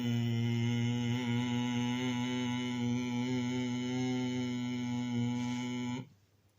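A steady, low droning hum from humming bee breathing, held for about six seconds, rich in harmonics, then abruptly stops, leaving brief quiet.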